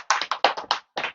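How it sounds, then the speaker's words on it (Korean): Short burst of audience clapping at a Buddhist dharma lecture hall, about six or seven loud, close claps in an uneven run, each broadband and sharp, with a brief gap before a final clap, no talk. "박수 한번 치주시오."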